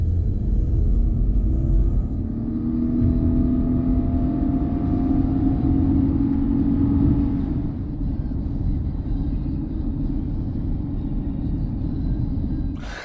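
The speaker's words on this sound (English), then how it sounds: "I'll see if I can show you the 0 to 100 bit now." A Subaru Outback XT with a 2.4-litre turbo and all-wheel drive accelerates hard from 0 to 100, its engine tone rising steadily as a cabin drone and road rumble fill the background with no talking.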